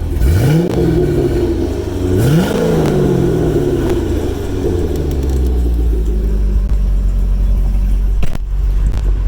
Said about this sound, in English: Here's the exhaust.